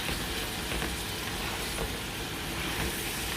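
Vegetables and spring onion sauté in a hot pan, a loud, continuous sizzle and crackle of frying with faint stirring scrapes, steady from start to finish.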